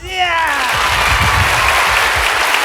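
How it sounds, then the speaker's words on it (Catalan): Studio audience rehearsing a round of applause on cue, a dense, loud wash of clapping with crowd noise and a brief voice at the start. "anem a provar-ho primer, en primer lloc. L'aplaudiment."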